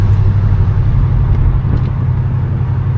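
A steady, low engine rumble from a 1966 Oldsmobile 98 holds at a constant idle-like level throughout, close and loud, with no speech.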